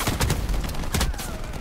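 Gunshots from a pistol in the shooter game Shatterline, a quick cluster of loud close shots with a couple of stronger bursts.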